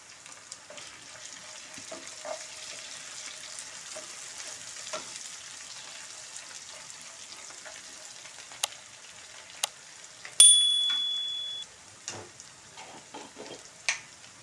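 Curry leaves hit hot oil in a pan for ridge gourd curry and give a soft, steady sizzle while being stirred, with one sharp crackling burst partway through and light scraping sounds.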